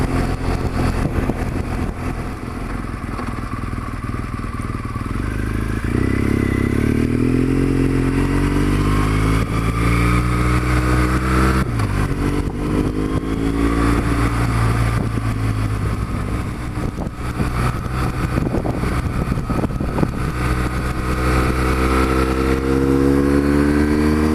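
A motorcycle riding along a country road in Surrey, its engine note rising and falling through gear changes and revs, loud and close with wind rush throughout.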